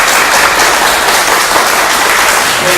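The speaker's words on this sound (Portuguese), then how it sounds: "uma salva de palmas a Jesus" A congregation gives loud sustained applause to Jesus during a sermon, a thick, even roar of many clapping hands filling the space, close and continuous with no speech.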